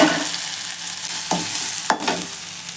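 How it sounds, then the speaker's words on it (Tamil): Ground coriander paste sizzles steadily in hot oil, a loud, constant frying hiss broken by a couple of scraping stirs of the pan. "இப்போ எண்ணெய் சூடு ஏறிடுச்சு. இப்போ இந்த அரைச்சி வச்ச கொத்தமல்லி இதெல்லாம் சேர்த்துக்கலாம்."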